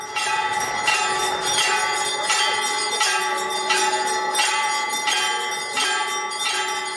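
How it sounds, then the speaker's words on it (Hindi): A temple bell rings for the early-morning Kakad Aarti, struck repeatedly in a steady rhythm with bright, sustained metallic tones that overlap and ring on, loud and close with no voices. "जैसे ही काकड़ आरती का घंटा बजने की आवाज आती है"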